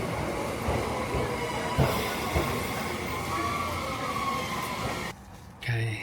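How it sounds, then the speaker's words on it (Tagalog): A train pulls into a station in Japan at dusk, a steady loud rumble with wheel and rail noise and a brief squeal, ending in a short drop and a sharp change near the close. "And here's our train"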